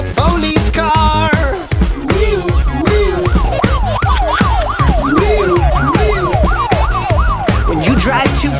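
A wailing police car siren rises and falls repeatedly inside a bouncy children's cartoon song, cycling steadily over drums and bright music throughout.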